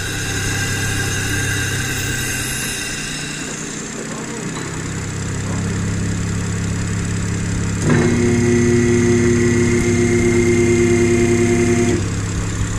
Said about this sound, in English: as you can hear, it's running smooth, idling smooth